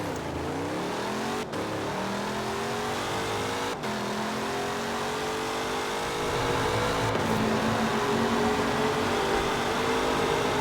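A car in the Forza Horizon 4 racing game accelerates hard toward 170, its engine note climbing steadily with sharp gear shifts, loud and continuous with no voices.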